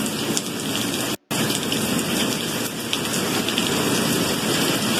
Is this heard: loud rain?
yes